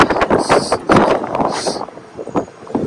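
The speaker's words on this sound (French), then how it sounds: "il y a beaucoup de vent" Strong cold wind buffets the deck of the drilling ship JOIDES Resolution in gusty bursts, roaring into the microphone with uneven loudness.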